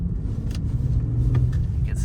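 Infiniti G37 AWD pulling away under light throttle on an uncleared snowy road, a steady low engine rumble close by, with faint scraping and crunching on top.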